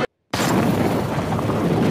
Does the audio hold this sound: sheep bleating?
no